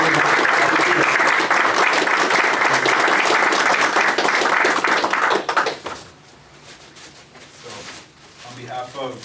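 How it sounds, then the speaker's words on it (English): A board meeting audience breaks into loud, dense applause that holds for about five seconds, then thins to scattered claps and fades into quiet room noise with a few last claps. "if the board would join me in giving him a round of applause for his work"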